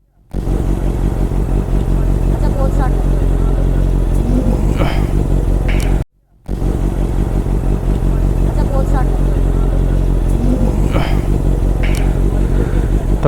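Honda CBR650 superbike idling after a cold start with a loud aftermarket exhaust, a steady close rumbling drone with a brief cut midway before it resumes, no other sounds over it.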